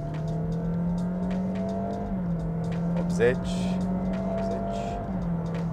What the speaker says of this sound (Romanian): Hai să încetinim până la 50 de km pe oră și apoi să accelerăm până la limita de 100 de km pe oră.